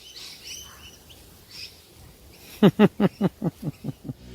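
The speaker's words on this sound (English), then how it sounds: "the cute-looking parrots make a beast of themselves" Parrots in a flock raid lawns and trees, giving a rapid series of about ten loud, harsh squawks close by after a stretch of quieter background calls.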